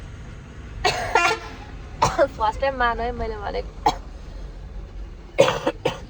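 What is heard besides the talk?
coughing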